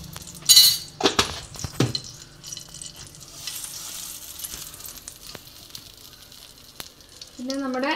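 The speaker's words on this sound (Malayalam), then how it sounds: "വീണ്ടും പാൻ സ്റ്റൗവിൽ വെച്ചു അതിലേക്ക് 1 സ്പൂൺ നെയ്യ് ഇട്ട് കൊടുക്കുക" Ghee heating in a pan on the stove, giving a soft steady sizzle with a few loud clinks and scrapes of a spoon against the pan near the start, and faint clatter later.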